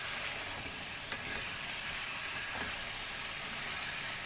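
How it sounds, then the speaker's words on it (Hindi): Chicken pieces frying with garlic-ginger paste in a karahi, a steady broad sizzle holding constant throughout with a couple of faint stir clinks, close and even, with no talking. "अब इसके अंदर 1 टेबलस्पून के करीब लहसुन अदरक का पेस्ट डाल देंगे"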